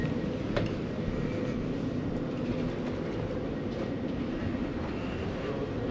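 A passenger train rolls along with a constant low rumble and rattle heard from inside, steady and moderately loud with no distinct clicks or voices.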